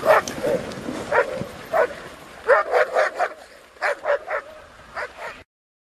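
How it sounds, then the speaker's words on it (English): Several sled dogs bark in short bursts and clusters in a video game sound from the old version of Landscape, fairly close, with brief yips between volleys and no talking. "Dog sled."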